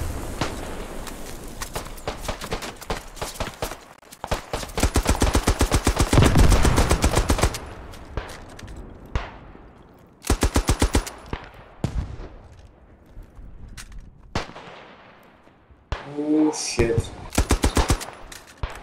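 Lewis gun machine gun firing in the World War I shooter game Beyond The Wire: loud rapid bursts of automatic fire in several strings, separated by pauses, with a voice talking between bursts.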